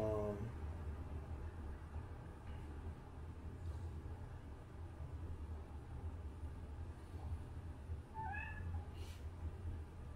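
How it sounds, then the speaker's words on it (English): A pet cat meows faintly indoors, one short cry at the start and another thin, rising meow near the end, over a steady low background hum. "That's my cat, Charlie."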